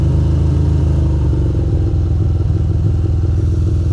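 A Ducati motorcycle engine revs loud and near on a rainy, foggy city ride through Manhattan and Queens, with a steady low rumble and rhythmic throbbing pulses throughout.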